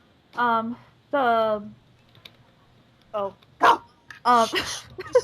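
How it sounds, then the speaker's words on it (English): Dog startled by dropped feed gives several sharp barks at close range, spaced apart, along with clattering and clicking noises. "I dropped some feed and I startled the dog"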